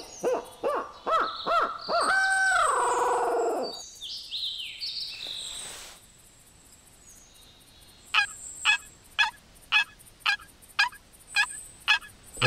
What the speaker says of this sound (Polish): Tam już idzie indyk po drodze.